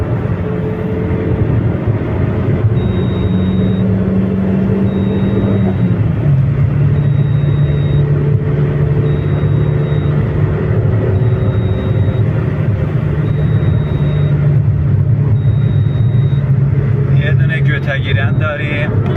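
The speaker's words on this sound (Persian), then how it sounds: "گازشو گرفتم روی 4 رو 120 تا. پا رو تا آخر فشار دادم روی گاز." A SAIPA Quick car's engine drones steadily under full throttle in fourth gear near 120 km/h, a constant close-up cabin rumble that holds for about nineteen seconds, with one small shift in pitch partway through.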